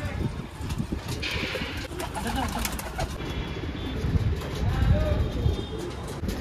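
A pigeon coos close by among the fluttering of wings, with a low rumbling background and faint voices now and then.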